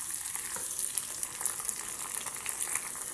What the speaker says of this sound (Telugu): పోపు అనేది బాగా ఫ్రై అయింది కదా